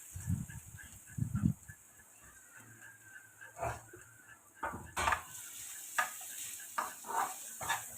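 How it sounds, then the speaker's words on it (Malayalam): Grated coconut roasts in a pan with cinnamon, fennel, cardamom, cloves, garlic and shallots, giving a faint, soft sizzle with scattered spatula scrapes and stirring knocks at close range. "പട്ടയും പെരിഞ്ജീരകവും ഏലക്കയും ഗ്രാമ്പും പിന്നെ കുറച്ച് വെളുത്തുള്ളിയും ചുവന്നുള്ളിയും കൂടി ഇട്ടിട്ട് തേങ്ങേനെ നന്നായി വറുത്തെടുക്കാം"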